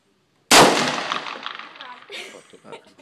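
A big gun fires once, a sudden loud close blast that rings and decays over a couple of seconds, followed by faint voices.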